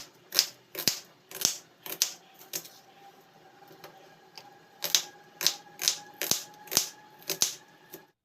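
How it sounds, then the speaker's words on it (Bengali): Knife chopping carrots, cabbage, capsicum and onions on a board in a home kitchen, sharp close taps in quick bursts with a short pause between runs. "ঘরের মধ্যে কিছু সবজি ছিল তাই সেগুলো কেটে নিচ্ছি গাজর বাঁধাকপি ক্যাপসিকাম আর পেঁয়াজ"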